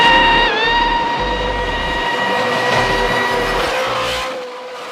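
A car rolls up close at a car meet, engine rumbling in low pulses with a rising whine that shifts in pitch, then the sound tapers off near the end.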